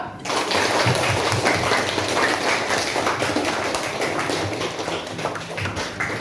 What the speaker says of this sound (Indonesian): Alhamdulillah, tepuk tangan semua.